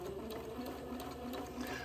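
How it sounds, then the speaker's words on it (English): Sewing machine running a slanted seam on a Christmas dress, giving a quiet, steady, rapid stitching whir with a fast mechanical pulse throughout, heard alone. "I will sew in sort of an angle until I get to the bottom of the slit"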